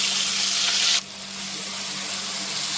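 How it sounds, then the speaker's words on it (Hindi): Ginger and chili paste sizzles steadily in a hot pan while cooking a plain meal without garlic or onion, a loud close hiss that jumps briefly then settles into a continuous fry. "अब इसमें डाल देंगे ये अदरक और मिर्च का पेस्ट।"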